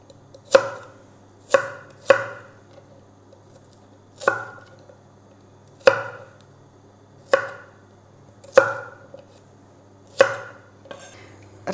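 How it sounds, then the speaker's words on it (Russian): A knife chops garlic cloves into large chunks on a cutting board in slow, spaced chops, about ten crisp knocks, close up in an otherwise quiet room. "нарезаем на такие вот крупные кусочки."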